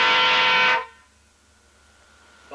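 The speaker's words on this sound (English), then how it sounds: "That's my air horns." Air horns mounted on a quarter horse racing car blast once loudly and close for nearly a second, then cut off, with a brief second toot starting at the end.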